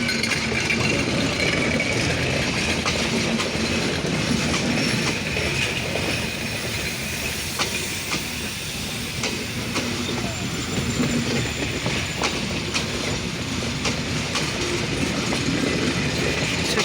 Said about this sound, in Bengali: রূপসা এক্সপ্রেস ট্রেনটি বর্তমানে পার্বতীপুর জংশনে ইন করলো